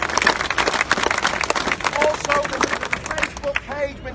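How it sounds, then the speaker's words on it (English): Outdoor crowd at Speakers' Corner in Hyde Park, London, breaking into a short burst of dense clapping, close and fairly loud, with a voice rising over the tail end. "we need to give ourselves a round of applause"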